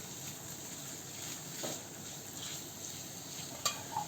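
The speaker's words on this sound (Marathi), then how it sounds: "इथं आपल्याला छान मऊ होईपर्यंत परतून घ्यायचा आहे" Spinach being stir-fried for garlic palak, a steady soft sizzle and stirring rustle in the pan with a brief utensil clink near the end, no talk.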